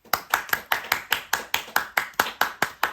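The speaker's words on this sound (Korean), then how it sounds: "우리 다 같이 박수로 축하하도록 하겠습니다." A church congregation claps in celebration, hands striking together in an even, steady rhythm of about four claps per second, clear and moderately close, with no talking.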